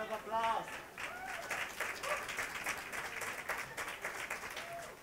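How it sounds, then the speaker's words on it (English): Guests at a high tea party clap in a round of applause after a door-prize winner is called, a steady patter of many hands with voices talking and calling out over it. "Round of applause"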